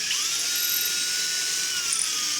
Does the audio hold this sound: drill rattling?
yes